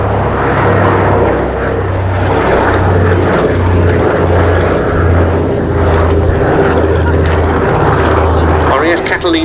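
Consolidated PBY Catalina flying boat at an air festival, a loud continuous propeller engine drone with a pulsing low throb passing nearby throughout, heard under a voice talking.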